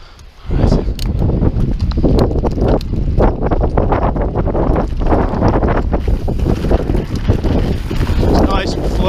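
Strong wind buffeting the microphone on an open, loose mountain bike trail on the Isle of Man, a loud continuous roar with gusting surges and rattling bumps from the ride.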